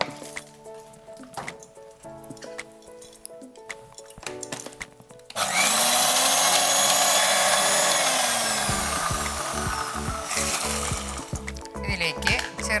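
Mixer grinder blending small pieces of ginger and chopped beetroot with water, a loud steady whir that starts abruptly partway through and runs several seconds, preceded by clattering and handling noises.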